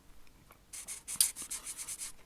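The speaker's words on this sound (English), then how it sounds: "make some nice little pen noises as I write down" A pen scratches across paper close up, a quiet run of short rhythmic strokes, about a dozen soft scratches in quick succession after a near-silent start.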